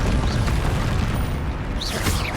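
Fire spell explosions from the video game Hogwarts Legacy: a dense, continuous rumbling boom throughout, with bright magical whooshes rising near the end, loud and sustained with no pauses.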